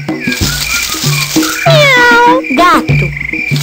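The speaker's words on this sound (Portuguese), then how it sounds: "Gato." A cat meows once with a rising then falling cry, followed by a short second meow, over a light looping electronic tune.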